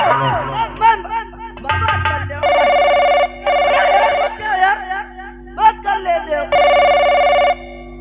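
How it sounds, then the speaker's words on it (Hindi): A telephone rings in repeated electronic bursts while people talk and shout over it nearby. "अरे संजू, अरे माँ किसका फोन है? पापा जी का फोन।"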